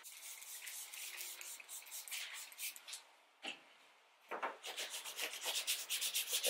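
A clay bar rubs on car paint in a close, continuous scrubbing friction, smooth rubbing strokes with a brief pause in the middle before the rubbing resumes, gritty and steady.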